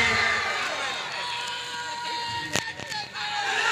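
A crowd at a religious poetry gathering in Qasimabad, Gangoli, Ghazipur answers the call for Takbir with a dense, loud, echoing roar of many voices chanting together. The sound is sustained throughout with brief dips.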